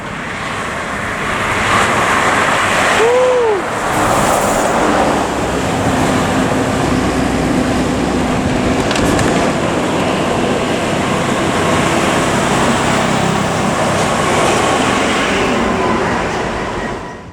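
A train rolls steadily past at close range on an Indonesian rail line, a loud continuous rumble and clatter of wheels and cars that holds for about sixteen seconds before fading at the end.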